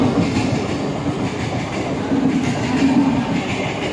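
A train passes a railway level crossing close by, a loud, steady rumble with rolling wheel clatter throughout and no talking.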